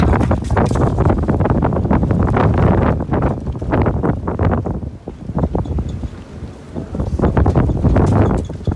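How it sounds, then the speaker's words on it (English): Strong outdoor wind buffets the microphone in continuous loud rumbling gusts, easing briefly midway before surging again, with no talk over it. "Be safe, it's gonna be windy"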